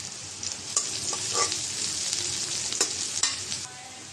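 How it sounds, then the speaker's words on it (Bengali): Chopped onion, garlic and chilli sizzle hard in hot oil, a loud, steady crackle broken by several clattering stirs of a spatula, with no talking. "তেল দিয়ে দিলাম, দিয়ে দিলাম পেঁয়াজ কুচি, রসুন কুচি"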